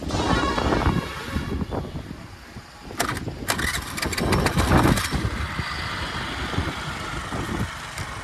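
A small Honda Activa scooter engine cranks and starts up close, its motor sputtering and revving over steady outdoor wind noise before settling into an idle.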